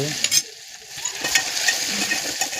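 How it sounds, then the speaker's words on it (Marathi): Curry leaves and tomato sautéing in hot oil, a short burst of close sizzling with a few sharp stirring clinks and scrapes, a brief lull near the start, and no talking. "कढीपत्ता टोमॅटो चांगलं परतून घेणार तेलामध्ये"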